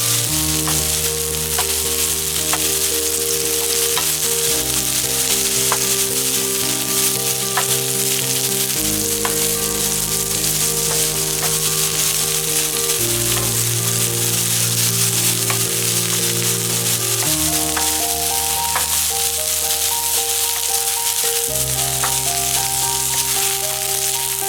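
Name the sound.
stir-frying sponge gourd in a wok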